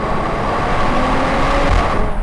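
A 2025 Mercedes-AMG CLE 53 convertible with its inline-six engine drives along, producing a steady, continuous broadband rumble of engine and road noise throughout, fairly loud and with no talking.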